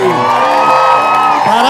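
A live studio audience at a music show cheers and whoops loudly in one short, sustained burst of high, shrill voices.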